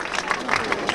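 Live show audience clapping, a dense continuous patter of applause with a voice faintly underneath.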